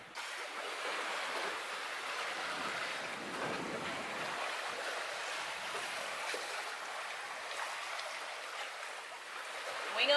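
A sailboat runs wing on wing downwind through the waves, making a continuous rush of water and wind noise, fairly faint and even, with no voices.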